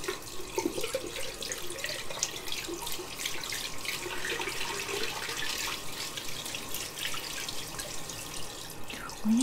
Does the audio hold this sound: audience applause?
no